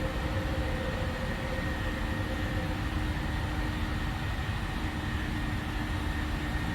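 Jet engines of a PMDG 737-800 in Flight Simulator roar steadily as the airliner climbs out after takeoff, a continuous broadband rumble with a constant tonal whine held at even loudness throughout, no voices.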